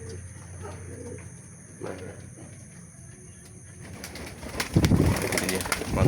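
Domestic pigeons coo softly at an early-morning feeding, while someone talks briefly in the foreground and rustling and movement swell near the end.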